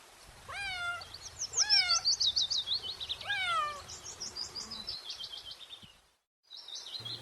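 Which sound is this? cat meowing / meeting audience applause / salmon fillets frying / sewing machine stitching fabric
cat meowing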